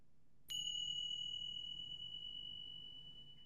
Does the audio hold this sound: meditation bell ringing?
yes